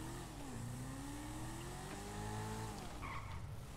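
A Jester race car engine in Grand Theft Auto V drones steadily with rising and falling pitch as it shifts, with a brief tire squeal near the end; no talking.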